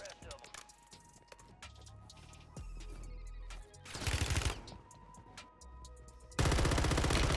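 Bursts of gunfire from the online shooter Warzone on Rebirth Island, loud broadband volleys at intervals with a final heavy burst, mixed with game ambience and other sounds.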